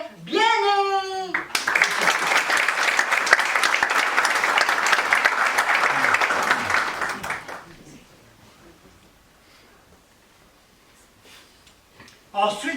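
A theatre audience at a student company's stage show breaks into loud, sustained applause and clapping for several seconds, then fades away into quiet, with a voice speaking briefly before and after.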